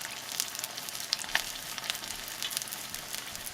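Battered fish frying in oil heated to 350–375 degrees: a steady, close, bright sizzle with crackling pops scattered throughout, continuous and with no talking.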